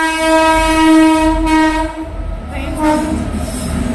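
A loud, sustained train horn blares up close, followed by the rumble of a passing train with rattling wheels.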